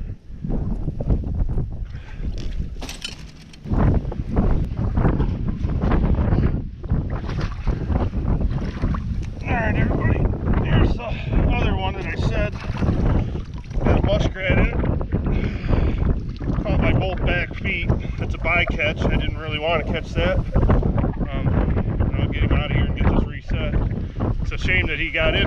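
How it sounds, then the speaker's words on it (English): Gusty outdoor wind buffets the microphone beside a beaver dam while trapping, loud rumbling bursts rising and falling throughout, with someone talking over it for most of the time. "Sorry about the wind. I hope you can hear me all right."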